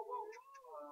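A single short, close cat meow with a rising then falling pitch.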